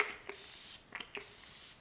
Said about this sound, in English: This has been my favorite setting spray.